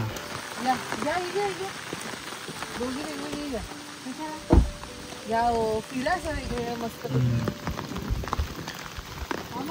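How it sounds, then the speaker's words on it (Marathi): Steady cool rain pattering outdoors as a constant wash of hiss, with people talking over it and a brief thump midway. "मस्त पाऊस आहे, थंडगार."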